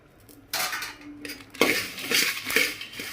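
Fenugreek seeds, black pepper and dried red chillies dry-roasting in a pan, with a steady run of metal spoon scraping and clinking against the pan, close and fairly loud, no talking.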